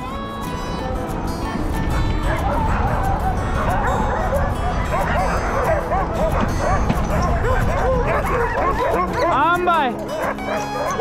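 Excited sled dogs on a dog sledding trail in Michigan's Upper Peninsula bark, yip and whimper continuously in a loud, overlapping chorus, with a person's voice heard among them.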